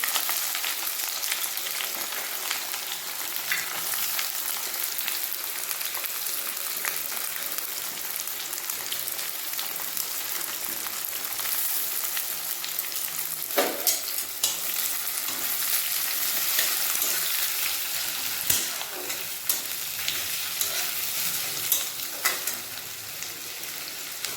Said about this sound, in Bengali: পেঁয়াজ ভাজা হতে থাকো